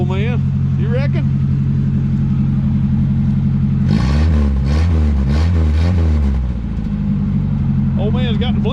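A 1972 Ford Pinto Runabout engine idles with a steady, rough drone, then revs in several quick surges before settling back. People talk over the engine at the start and end.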